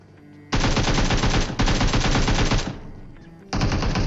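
Automatic gunfire in the battle-royale game PUBG, a loud, close, sustained burst of rapid shots lasting about two seconds with a brief break, then a second burst starting near the end, with no talking.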